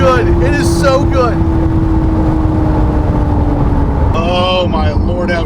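A C8 Corvette Z06 engine revs loudly on a downshift, a steady high drone with rising and falling pitch sweeps, especially a sharp blip near the end, close and dominant.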